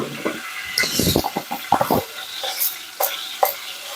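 Mustard seeds spluttering in hot oil in a pan, with a rapid burst of sharp crackles and pops that thins to a few scattered pops, close and fairly loud, without voices.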